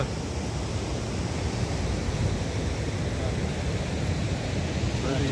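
Steady, full-bodied rush of a stream flowing over a road during heavy rains, running continuously without a break, broad and close.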